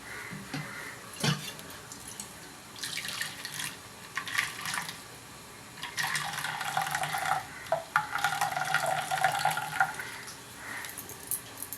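Coconut milk sloshing and trickling close by as it is strained through a thick cloth into a bowl, with intermittent squeezing and pouring sounds and soft splashes, no talking.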